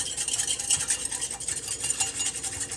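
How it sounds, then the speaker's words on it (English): Soy curl seasoning is whisked briskly into hot water, a quick, steady scraping and swishing of the whisk against the bowl, close and fairly quiet, with no talk. "I'm just going to whisk this."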